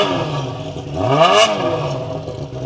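A used motorcycle at an open-air secondhand motorcycle fair in Caruaru revs once, its engine swelling to a loud peak and falling back over a steady, busy crowd murmur.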